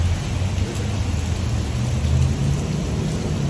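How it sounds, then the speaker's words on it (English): Heavy rain pours down during an outdoor motorbike ride, a dense, steady hiss with low rumbling underneath, loud and continuous with no talking. "We're going to try and beat this rain once again."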